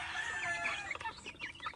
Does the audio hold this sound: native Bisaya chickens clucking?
yes